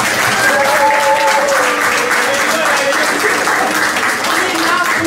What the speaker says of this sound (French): Acclamez d'abord pour moi.